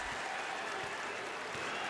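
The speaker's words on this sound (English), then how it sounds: "Here's it from the adoring home crowd." A home basketball crowd in Miami applauds Dwyane Wade as he leaves an NBA game against the Chicago Bulls, a sustained wash of clapping and cheering from a large arena audience.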